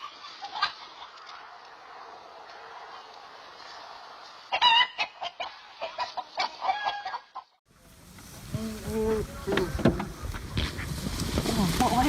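A rooster facing a hawk gives loud, close clucks and squawks in bursts that grow busier toward the end, against a steady hiss of background noise.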